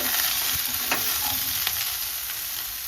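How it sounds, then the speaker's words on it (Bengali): Vegetables fry in a pan with dried red chillies and panch phoron five-spice seeds for khichuri, giving a steady close sizzle broken by a few scraping stirs. "সবজিগুলো দিয়ে দিচ্ছি এর মধ্যে"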